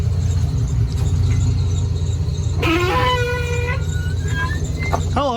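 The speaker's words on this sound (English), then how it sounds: "the fan belt is absolutely cooked on the Cadillac. It also does a squeal." Worn fan belt on a Cadillac rat rod squealing, thin high-pitched chirps and squeals rising over a low steady engine idle, close and mid-level, no talking.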